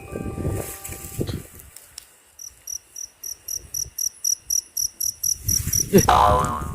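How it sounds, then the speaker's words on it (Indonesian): Crickets chirping outdoors in a loud regular series of about a dozen sharp pulsing trills, close by, between stretches of rustling and movement at the start and end. "jangkrik"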